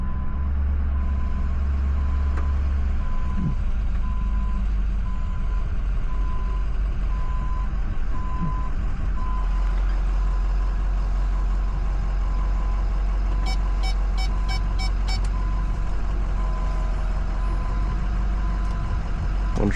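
A work truck backs up with its engine droning steadily throughout, and a short run of high, evenly spaced backup beeps sounds clearly near the end.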